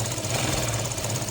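A sewing machine stitches a cloth bag with a fast, steady mechanical rattle, close and continuous, running evenly without a break.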